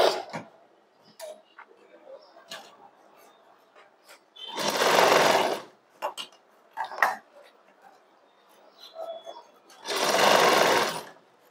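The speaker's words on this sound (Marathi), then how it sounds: "नंतर आता आपल्याला शिलाई मारायला चालू करायचं आहे" Sewing machine stitching a blouse sleeve, running in two loud bursts of about a second each with quiet pauses between, while someone talks briefly and handles the fabric.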